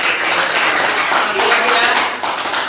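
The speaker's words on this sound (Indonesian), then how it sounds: "Ya, tepuk tangan." A classroom of students clapping their hands together, a dense, steady patter of many claps at once, close and fairly loud, lasting a few seconds.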